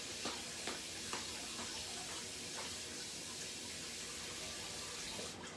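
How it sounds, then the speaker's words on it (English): Running tap water streams steadily over mushrooms being rinsed at a kitchen sink, a continuous broadband hiss with a few light splashes and clunks, no voices. "Okay, so I've rinsed that off."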